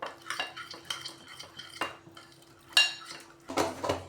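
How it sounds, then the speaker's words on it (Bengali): A metal spoon stirs kasuri methi into chicken tikka masala in a pan, producing repeated sharp scrapes and clinks in irregular bursts, close and clear with no voices. "তো এবার এগুলো দিয়ে ভালো করে আমি মিশিয়ে নেব।"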